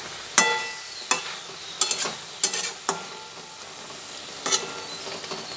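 Kasuri methi being stirred into an okra and potato curry in a pan, heard as several sharp scraping strokes of a spoon against the pan at uneven intervals, with a faint background sizzle and no voices.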